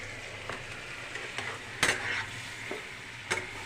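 Green and dried chillies, Kashmiri chilli among them, sizzle softly in a pan while a spoon stirs them, with a few sharper scrapes and clinks against the metal standing out over the quiet frying, and no talking.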